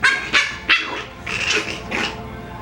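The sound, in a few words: Coton puppy barking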